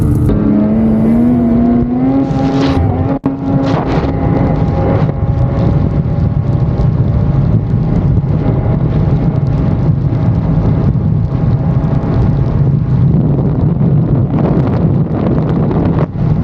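Ski-Doo Turbo R and Polaris Boost VR1 snowmobiles racing, heard from onboard as a loud, steady engine roar buried under heavy wind buffeting for the whole run, with no talk.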